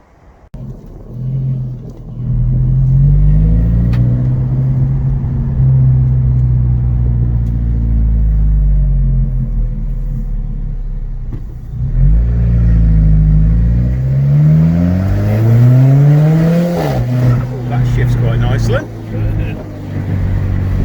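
An Alfa Romeo 4C, a light sports car, driving with the engine droning steadily under the cabin, then revving and rising in pitch through gear changes. Close and loud, with talk inside the car.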